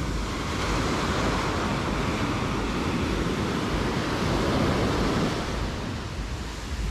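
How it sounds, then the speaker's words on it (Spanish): Gentle, soft ocean waves at Playa del Carmen beach wash in as a steady, broad hiss of surf with light wind noise, continuous and fairly close, with no voices. "estas olas no hacen daño, son muy suavecitas"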